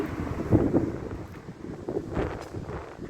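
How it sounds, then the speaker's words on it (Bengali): Gusting wind buffets outdoors on a street in Germany, rushing and rumbling in uneven surges across a few seconds, with no talk over it. "আজকে বেশ বাতাস, এই যে দেখতে পাচ্ছেন গাছের পাতা কিভাবে নড়ছে, বেশ বাতাস"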